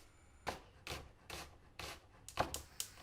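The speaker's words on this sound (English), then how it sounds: "So a small red onion is perfect for this. And we're just going to peel and slice it." A small red onion being sliced on a board with a knife, giving five or six crisp, evenly spaced cuts that speed up toward the end, close and moderately loud with no talk.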